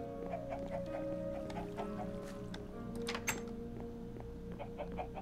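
Chickens cluck in the Minecraft modpack Agrarian Skies, a steady low murmur of game fowl with a few brief sharper squawks scattered through, fairly faint against a constant background hum.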